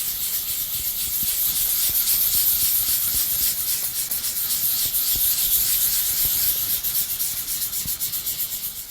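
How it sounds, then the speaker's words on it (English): Fine 500-grit sandpaper rubs by hand over a liquid bronze surface, a close, steady scratchy hiss in quick back-and-forth strokes lasting throughout with no talking. "grab my fine grade sandpaper. I've got a 500 grit here, and I'm going to lightly burnish the surface"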